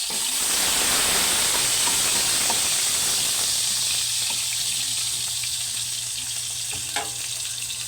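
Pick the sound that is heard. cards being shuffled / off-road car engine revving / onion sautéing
onion sautéing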